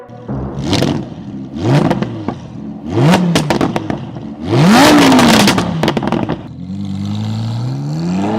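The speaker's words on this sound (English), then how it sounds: "we have a Gen 2 R8 coming in for Soul Performance exhaust" Audi R8 Gen 2 fitted with a Soul Performance exhaust revs hard in several loud, close bursts, each climbing and falling in pitch with crackle, before settling into a steady idle.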